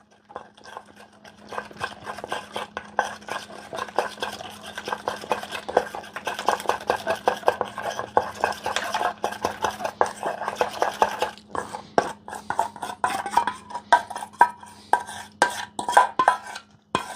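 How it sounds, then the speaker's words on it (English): Shredded coleslaw mix with carrots is tossed in a mixing bowl, a quick, steady run of utensil clicks and scrapes against the bowl that grows busier and louder, with a faint hum underneath. "Taking some shredded coleslaw mix with carrots in it. Okay? I'm mixing this up in my other bowl."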